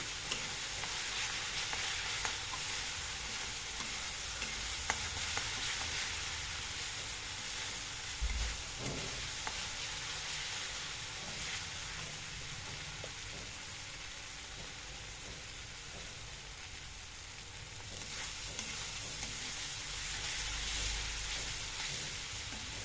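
Spice masala fried with Gobindobhog rice in a pan for murighonto, a steady close sizzle and hiss running throughout, with occasional stirring scrapes and soft knocks, no voices.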